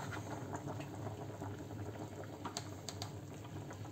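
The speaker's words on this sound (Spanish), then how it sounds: "Esto lleva ahora 5 minutitos hirviendo, ¿vale?" A pot of bean and chickpea stew with chorizo boils steadily, giving a dense, continuous bubbling and popping that stays close and even throughout, with no voices.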